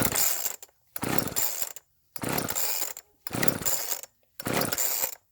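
A chainsaw is pull-started after choking and priming five times, with five repeated loud ratcheting pulls of the starter cord separated by short pauses, close by and with no talking.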